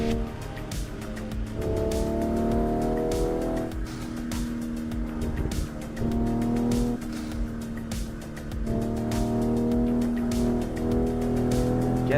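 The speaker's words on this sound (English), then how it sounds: "I'm driving a Toyota Supra" A Toyota Supra MK5 runs in a driving video game, its engine droning steadily and loudly throughout. The pitch rises and drops with repeated gear changes, and there is no talk over it.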